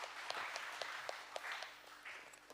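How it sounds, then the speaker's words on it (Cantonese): A church congregation at a Good Friday service gives soft, scattered applause, faint and distant in a large hall, with claps gradually thinning out. "我哋俾啲感恩嘅掌聲佢哋好嘛？"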